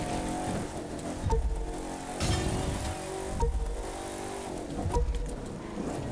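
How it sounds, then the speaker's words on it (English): A car engine in The Crew 2 drones steadily and swells in repeated revving surges roughly every second, with nitro boost kicking in as it slaloms through gates, close and continuous with no talk. "Let's turn the engine on, kick up the nitro, and slalom around the gates."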